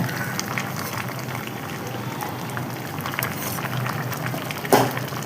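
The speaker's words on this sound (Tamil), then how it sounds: "இது கேரட்டு இதுவை வேக வச்சுருக்கேன்" Carrots and peas simmering in a pot on low heat, a steady soft bubbling wash close by with scattered small pops and a brief clatter near the end.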